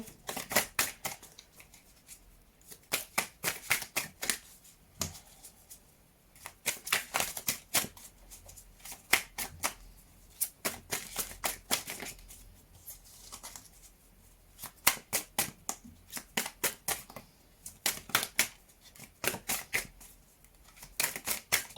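Oracle cards are shuffled in quick, crisp bursts of riffling clicks, with brief pauses between runs, close and clear with no voice.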